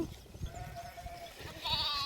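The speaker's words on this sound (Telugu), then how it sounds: "ఏంటి రానా వావ్, గొర్రె పిల్లలు చూడు నాన్న ఎంత బాగున్నాయో." Lambs and goats in a flock bleat faintly at a distance over low outdoor rumble and handling noise, with a few soft, thin calls and no clear talking.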